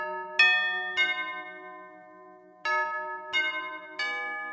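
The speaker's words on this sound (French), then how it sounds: "c'est un carillon" A carillon radio jingle from Europe 1, based on a traditional Swiss tune: bell-like chimes ring out in a short melodic jingle, several bright struck notes with long ringing decay, clear and unaccompanied.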